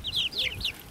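Young chickens on a homestead give a quick run of high, thin chirping peeps up close, soft and brief.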